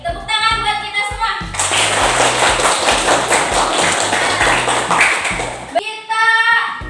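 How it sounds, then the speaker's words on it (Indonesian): A classroom group clapping hands together, a lively burst of many claps lasting several seconds, framed by a voice talking just before and after. "tepuk tangan buat kita semua"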